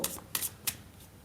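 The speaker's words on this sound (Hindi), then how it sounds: "आपके लिए हो सके तो कुछ कार्ड्स भी ले लूंगी" Tarot cards are shuffled close by in three quick riffling bursts, soft papery flicks that are crisp and brief with quiet gaps between them.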